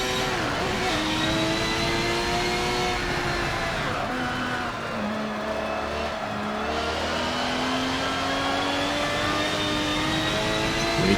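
Race car engine in Forza 7 chasing a Corvette, a loud continuous revving drone with rising and falling pitch as gears shift, close and steady throughout with no talk.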